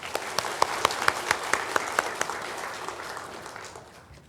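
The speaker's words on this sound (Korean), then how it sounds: "우리 박수로 환영하도록 하겠습니다." A church congregation claps in welcome during a Sunday worship service, a steady burst of many hands with sharp individual claps standing out, fading away over the final second.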